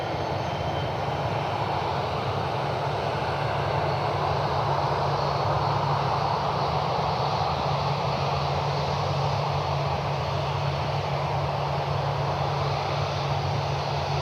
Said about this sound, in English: we'll take all these business jets that are coming in.